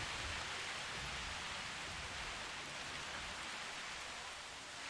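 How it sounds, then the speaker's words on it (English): Steady rain falls in a dinosaur park video game, a dense, even hiss of raindrops on surfaces that continues unbroken at moderate level with no other sounds. "I like the skin on dinosaurs when it rains."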